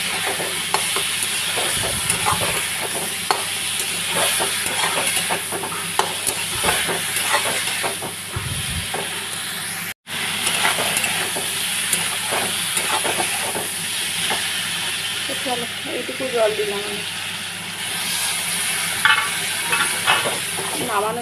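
Food sizzles and bubbles in a pan after a little water is added, with a steady hiss of steam and scattered clinks of stirring utensils against the pan, close and fairly loud throughout.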